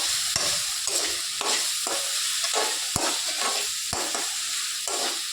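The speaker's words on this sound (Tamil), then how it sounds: "உப்பு அதிகமாக அதனால் கொஞ்சம் நல்லா வதங்கட்டும்." Sliced onions sautéing in a pan for onion chutney, a steady sizzle broken by regular scraping stirs of a spoon, close and without speech.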